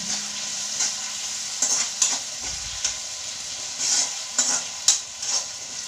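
Sliced tomatoes are stirred into half-softened onions frying in a pan, making a loud, continuous sizzle with repeated scraping and stirring bursts and hissing steam throughout.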